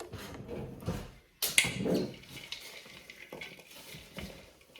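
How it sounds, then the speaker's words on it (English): Cranberry salad stirred in a bowl for a holiday dish, with a spoon scraping and clinking against the bowl in a few close, irregular strokes and a louder clatter partway through, with no talking. "We're going to stir this all around."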